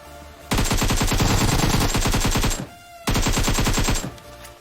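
Loud, rapid automatic gunfire in the mobile game BGMI, two sustained bursts of evenly spaced shots separated by a brief gap, with no talking.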